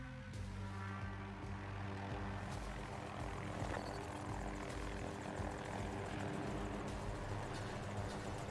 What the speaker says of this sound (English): I like helicopter entrance.